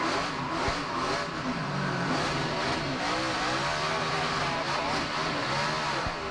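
NASCAR Nextel Cup cars at the 2006 Dodge/Save Mart 350 road course roar past with engines revving loudly and continuously, a dense, steady wall of mid-pitched motor noise with shifting tones throughout.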